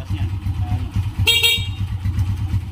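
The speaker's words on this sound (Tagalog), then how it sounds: "Oh, busina." A car horn gives one short honk over a running engine's low idle, loud and close, with the engine hum continuing steadily before and after.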